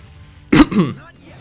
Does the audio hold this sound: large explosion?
no